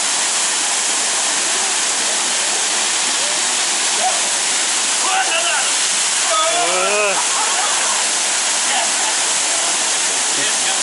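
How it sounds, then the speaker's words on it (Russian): A waterfall roars as a steady, loud broadband rush throughout, a natural cascade where people bathe, with brief voices and shouts rising over the water partway through. "Это водопад."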